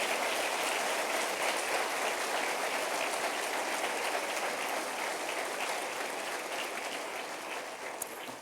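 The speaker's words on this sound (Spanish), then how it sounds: "Denle un aplauso al Señor por su triunfo" A church congregation applauds the Lord during a sermon, sustained, dense clapping filling the space from start to finish and tapering slightly in the last seconds.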